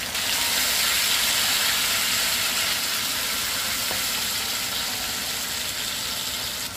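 Two red tomatoes sautéing in a hot pan give a loud, steady, hissing sizzle that runs unbroken and close throughout, with only a faint clack partway through and no voices.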